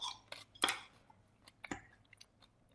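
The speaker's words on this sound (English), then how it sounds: "Crunchy. The asparagus." Fresh asparagus with fennel salad is bitten and chewed close up, giving a few sharp crunchy snaps followed by softer quieter chewing.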